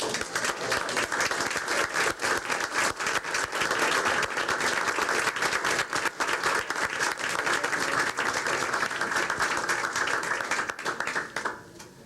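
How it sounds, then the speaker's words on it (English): An audience at a 1997 school board meeting gives dense, sustained applause, many hands clapping loudly and evenly for about twelve seconds before it tapers off at the end. "Oh, applaud them again."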